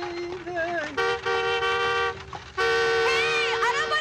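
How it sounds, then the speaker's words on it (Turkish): A car horn honks at a cart driver on a road in a Turkish comedy film: two long, loud, sustained blasts, the second near the end, with a wavering voice over them. "İki saattir korna çalıyorum, sağır mısın?"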